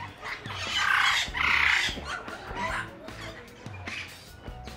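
Tropical parrots at an indoor parrot venue in Warsaw, loud squawking calls in several bursts, close and harsh, with softer chatter and faint voices between them.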